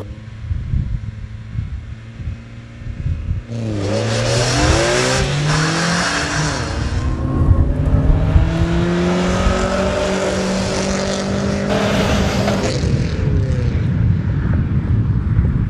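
A race car run with traction control off, its engine revving hard and accelerating from around the four-second mark after a quieter start, then holding a loud, sustained, rising roar with repeated throttle surges and no talking.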